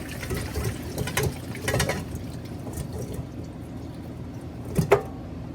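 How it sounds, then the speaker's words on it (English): Salted soaking water drains off cut potatoes, splashing and trickling unevenly, with a sharper pour burst near the end. "we're going to drain all of that water off."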